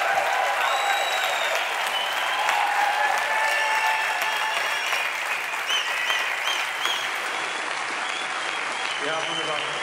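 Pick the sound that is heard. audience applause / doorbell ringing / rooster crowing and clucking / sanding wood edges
audience applause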